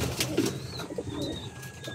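Pigeons coo softly in a loft, low murmuring calls overlapping at moderate distance, with a thin high whistle-like tone drifting in the background.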